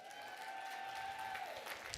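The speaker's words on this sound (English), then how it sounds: "Give yourself a round of applause, team number 1." An audience in a large hall claps together in a steady wash of applause, fairly distant and even throughout.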